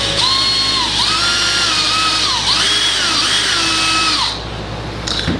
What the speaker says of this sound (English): very gently, carefully drill a hole through the center.